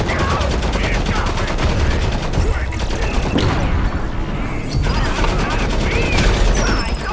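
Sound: grenade explosion and gunfire in the video game Modern Combat Versus

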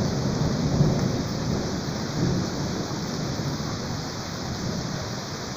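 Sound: rain and thunderstorm

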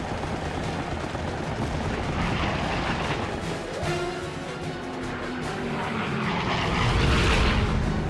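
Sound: WWII aircraft gunfire burst

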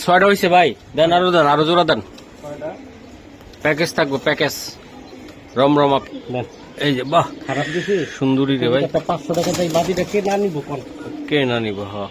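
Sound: pigeons cooing, racing giribaj highflyer pigeons

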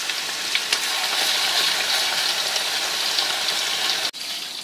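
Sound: beef frying for dendeng

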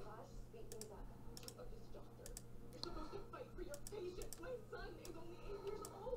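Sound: computer keyboard control-click during PlayMaker tutorial

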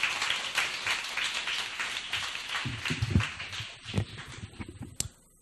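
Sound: audience applause

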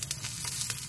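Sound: fish fillet frying skin side down in pan

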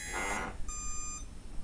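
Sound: ESC arming beeps, low then high

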